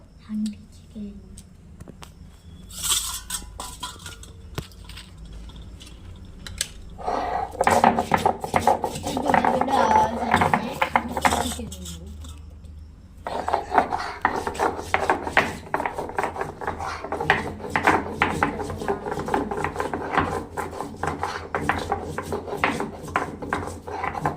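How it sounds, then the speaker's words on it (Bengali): Garam masala spices are ground by hand for a mutton curry: a continuous rough rubbing and rasping that grows louder and busier partway through, with a soft voice faintly in the background. "এখন এই যে খাসির মাংসের তরকারিতে এই যে এটা গরম মশলাগুলো বাটবো"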